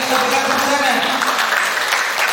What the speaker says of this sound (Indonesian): Iya, tepukan tangan.